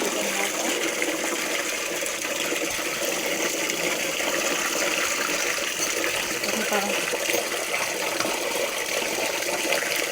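Water pours steadily from a pipe for a cow to drink in cold morning weather, a continuous broadband rushing that stays even throughout, with no voices.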